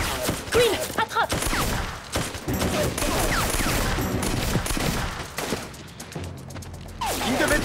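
Sharp bursts of gunfire from a French action film set in a forest, rapid cracking shots in clusters with a loud fusillade, mixed with shouting voices and some clattering.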